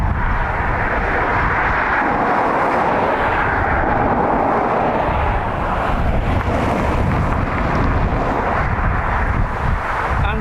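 An Aer Lingus airliner arriving at Dublin Airport from Prague gives a loud, rumbling engine roar that swells and fades, heavily buffeted by gusty wind noise on the microphone.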